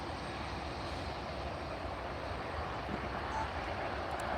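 An easyJet airliner passes at Edinburgh Airport, producing a steady broad engine roar that holds at moderate, fairly distant loudness throughout.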